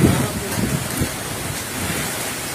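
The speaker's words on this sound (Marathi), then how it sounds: "त्या म्हशीला टपाटप गारा लागत आहेत" Fine hail pattering on a buffalo and the ground in a windy farm field during an unseasonal storm, a soft continuous spray of small impacts, fairly faint, with brief stronger taps at the start.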